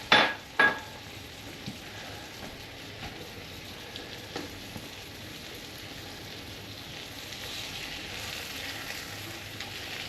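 Homemade pierogies fry in butter in a pan, a soft steady sizzle running throughout after a couple of sharp clatters at the start, with no talking.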